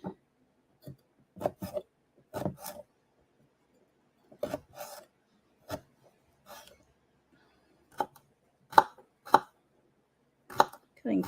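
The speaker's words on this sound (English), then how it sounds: "Cutting pretty much the same way as I cut the radishes" Knife slicing last year's carrots for potato salad, a run of short crisp chops on a cutting board in irregular bursts with quiet gaps between them.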